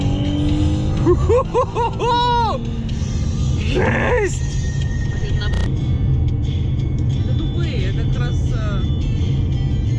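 Ford Mustang driving with a steady engine drone and road roar throughout, rising in pitch as it revs and accelerates, while people talk over it.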